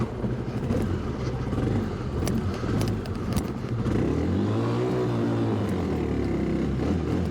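A Kawasaki KLX 300 dual sport motorcycle climbs a steep off-road hill at Brown Mountain OHV, engine droning steadily with a rising and falling rev as the clutch is feathered, moderately near and continuous without speech.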